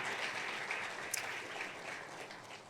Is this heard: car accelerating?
no